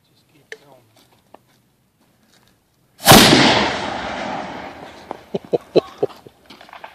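A homemade cannon fires one sudden loud blast that rolls off into a decaying rumble, with quiet talk and small clicks before it and short sharp sounds after.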